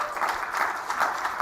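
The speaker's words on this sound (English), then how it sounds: "So round of applause if you think there is no grand deal in the offing." An audience at a talk on US strategy gives a brief burst of applause, a steady patter of many hands clapping, moderately loud and alone.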